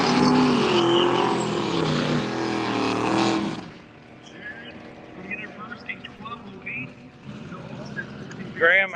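Drag racing cars roar down the strip at the Summit Racing Midwest Drags, a loud, dense engine blast for about four seconds that then drops to a quieter rumble with scattered voices and crowd noise.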